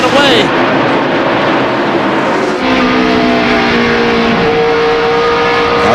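NASCAR stock cars race around Bristol's short track in 2002, engines roaring loudly and continuously as cars pass, with one engine note sweeping down; a commentator talks over the din.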